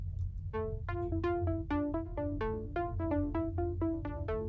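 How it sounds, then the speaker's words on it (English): A thin, plucky synth tone plays a short bouncing melody of separate notes over a low, soft rumbling background, fairly quiet overall. "So the synth sounds like this."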